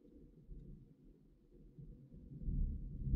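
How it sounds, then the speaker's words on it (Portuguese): Distant thunder rolls as a low, muffled rumble that builds and grows louder toward the end, heard alone at night on a roadside as rain approaches. "Ó o trovão."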